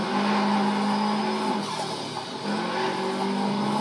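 An all-wheel drive Subaru Impreza racing car drifts in the NFS Shift 2 racing game, loud tire squeal layered over a droning engine, briefly dipping before the squeal returns.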